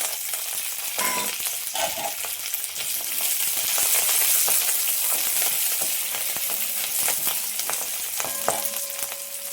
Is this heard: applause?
no